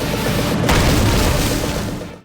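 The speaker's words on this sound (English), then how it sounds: "an explosion erupted, allowing the fox to escape" A movie explosion roars as a dense, loud blast with a sharp surge early on, then rumbles on steadily before cutting off abruptly, with no voices present.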